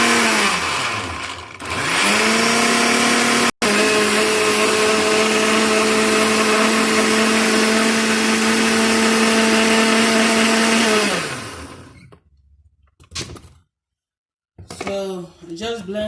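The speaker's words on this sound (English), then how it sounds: "So just blend it a little bit." A blender grinds spinach and scent leaf, starting with a couple of short pulses, then whirring loudly and steadily for about eight seconds before winding down, with brief kitchen clatter and a voice afterward.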